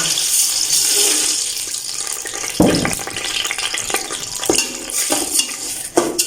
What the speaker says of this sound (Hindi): चीनी हम 250 ग्राम डाल रहे हैं।